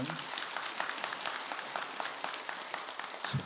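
Audience applause at a Buddhist dharma assembly in a Korean temple hall, a dense crackle of many hands clapping steadily with a few sharper individual claps standing out, continuing unbroken for the whole stretch.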